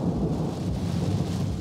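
Deep, steady thunder rumbles from a storm gathering over the Burgundy hillsides, a continuous low roll with no break across the short stretch.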